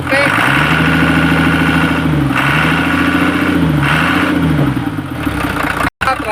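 A diesel engine runs steadily with its injection pump still uncalibrated, a loud, continuous low rumble with slight pitch dips, cutting out abruptly near the end.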